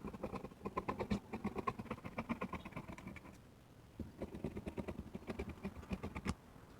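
Scissors snip through fabric while a flare skirt is cut out, giving quick rapid bursts of crisp clipping that pause briefly and then resume, close and fairly quiet.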